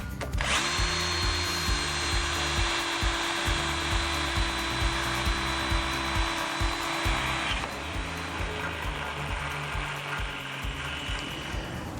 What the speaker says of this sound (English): So I'm gonna drill a pilot hole before we drill our main hole, try to make things run a little smoother here.